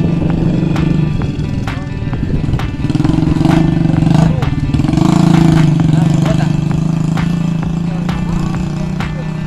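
A chugging rice-paddy tractor engine runs nearby with a steady rhythmic thump and rising, falling revs, while a voice talks over it.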